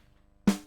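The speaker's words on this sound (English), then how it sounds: "and the snare bottom, which sounds like this" A single sharp snare hit, picked up by a microphone under the snare drum, with a bright, rattly burst that decays quickly, following near silence.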